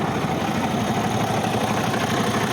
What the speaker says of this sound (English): Yeah, we got the engine going.